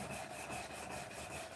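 A blade's bevel is ground by hand on a stone or abrasive, a faint, steady rasping scrape repeating in quick back-and-forth strokes.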